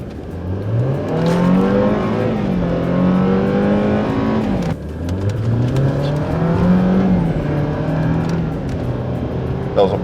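A BMW accelerates at partial throttle, its engine note climbing steadily in pitch and dropping between gears, loud and continuous from inside the car, with people talking over it.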